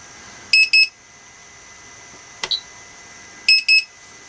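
Lost-signal alarm on a Target Hobby 3-in-1 unit repeats its shrill double beep twice, with a single brief click and chirp between the pairs, over low background hiss.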